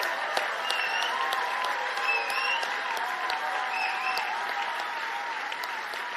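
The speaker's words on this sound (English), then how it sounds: "with another resounding standing ovation and a thunderous applause in honor of a truly extraordinary legacy" A standing ovation fills a presidential session at the Afreximbank annual meetings, with dense, thunderous clapping from a large crowd that stays steady and loud throughout, with faint tonal sounds underneath.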